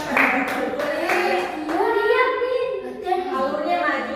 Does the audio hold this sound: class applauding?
yes